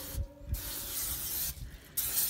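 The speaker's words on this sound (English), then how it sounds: "Are you spraying some Pam on there so the ribs don't stick?" Pam cooking spray hisses onto a smoker grill before pork ribs go on, in two long bursts separated by short breaks, close and loud, with no talking.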